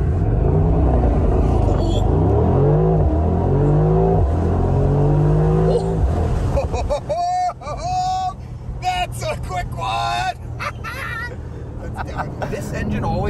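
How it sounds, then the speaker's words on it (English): A 2022 Mercedes-AMG SL55 roadster engine and exhaust loudly accelerating through rising revs for about six seconds, then settling into a rumbling cruise while people talk over it. "This engine always sounds good, but this particularly sounds good."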